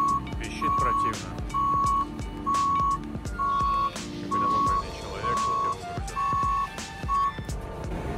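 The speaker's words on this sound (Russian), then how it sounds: "Точно таким же форклифтом, либо сбоку, либо сзади. Пищит противно." Repeated reversing beeps from a forklift unloading damaged cars at a Copart salvage auction yard in the USA, steady evenly spaced tones about half a second long over engine rumble and background talk.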